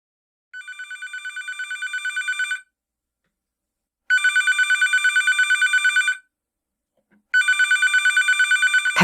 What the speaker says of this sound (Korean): 갑자기 울리는 내선 전화를 받아보니